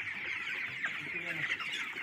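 A flock of 22-day-old chickens in a poultry farm shed holding about 1500 birds makes a faint, continuous chattering din, with a voice murmuring briefly beneath it.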